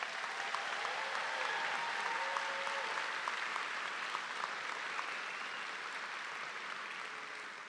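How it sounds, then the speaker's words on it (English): At a high school graduation ceremony, the crowd gives the graduating class a sustained round of applause, heard from a distance and fairly quiet, with a faint tone running faintly beneath the clapping. "Can we give this class another round of applause?"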